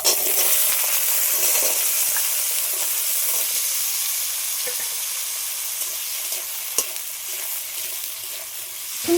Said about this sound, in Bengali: এই আলুগুলো একটু লাল লাল করে আগে ভেজে নেব